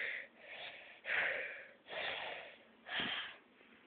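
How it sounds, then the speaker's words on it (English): Heavy, wheezing breaths repeat in a steady rhythm, about four harsh, snorting inhale-exhale cycles, close and loud with no other sounds. "Why are you breathing so hard?"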